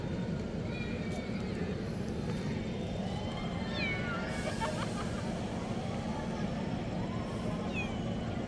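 A cat meows a few times over a steady rumbling engine hum and distant murmuring voices.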